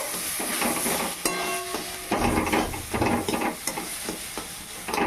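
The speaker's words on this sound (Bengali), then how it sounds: "এবার এটা ভালোভাবে নেড়ে চেড়ে মিক্স করে নেব।" Banana flower (kola mocha) curry stirred in a pan: close scraping spoon strokes and light clinks ride over a steady frying sizzle, with no talking.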